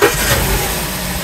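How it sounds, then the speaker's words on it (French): A BMW engine runs steadily after being restarted during a camshaft actuator check, a loud, close, continuous hum with no talk over it. "Là, le véhicule tourne."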